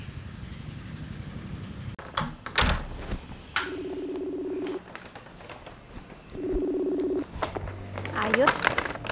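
Two bursts of telephone dialing tones sounding as a number is keyed in to call someone's mother, each a steady beeping lasting about a second, with scattered bumps and noises and voices talking around them.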